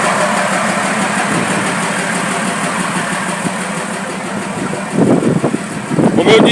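A Fiat 190 truck engine idles in a steady, close mid-pitched rumble, with louder uneven pulses toward the end and a voice speaking over it.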